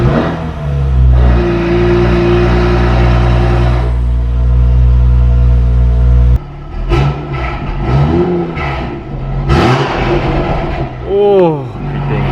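A tuned Toyota Supra, boosted with about 120 extra horsepower, idles loud and close in an echoing garage box, then its engine revs hard in several sharp rising and falling bursts.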